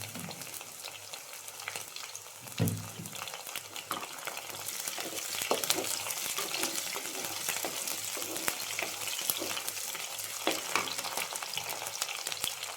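Chopped green chillies fry with dried chillies in a pan for a fish and mango curry, a steady crackling sizzle with occasional sharp pops and faint stirring, quiet and close, with no voices.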